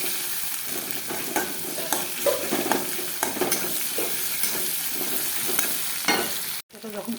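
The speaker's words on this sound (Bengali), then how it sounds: "একটু পেঁয়াজ কুচি দিব। নাড়াচাড়া করবো।" Chopped onion frying and sizzling in a pan, stirred with a steady run of close scraping strokes, with a brief cut near the end.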